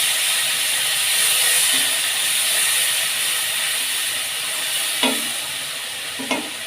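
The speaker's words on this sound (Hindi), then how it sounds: "इनको अच्छे तरीके से हम भून लेंगे जी मसालों के साथ भी।" Powdered spices with tomatoes and a splash of water sizzle loudly in a pan for aloo baingan sabzi, a continuous steamy hiss with two sharp utensil taps near the end.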